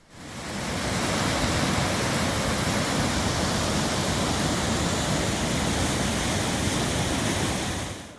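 Powerful river rapids on an Ontario river, with big rocks jutting out and good-sized drops, roar as a loud, steady wash of rushing water that never lets up.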